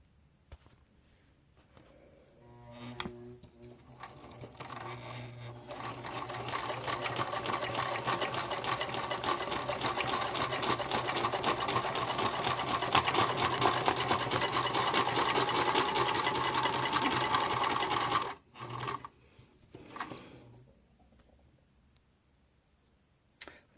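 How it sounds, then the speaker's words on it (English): A sewing machine stitches around a fabric cover in one long, steady whir that runs for about twelve seconds before stopping abruptly, with a few soft clicks before and after. "Getting ready to sew here."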